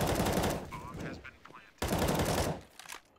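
Rapid automatic gunfire in the Counter-Strike video game during a competitive match, two loud dense bursts separated by a brief lull, with faint voices mixed in.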